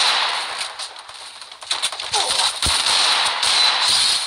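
Desert Eagle pistol shots ring out in the mobile game Free Fire Max, sharp cracks coming singly and in quick bursts over a steady, loud game soundscape.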